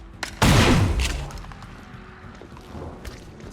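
A single loud burst of gunfire from XCOM: Chimera Squad, a sharp crack with a heavy booming tail that fades over about a second, followed by quieter rumbling game ambience and a few faint clicks.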